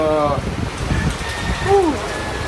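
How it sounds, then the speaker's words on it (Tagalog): Heavy rain pours down in Santa Fe, Nueva Vizcaya, a constant loud hiss with no letup throughout, while a brief tonal whine rises and falls partway through. "Napakalakas ng ulan mga kaamigo."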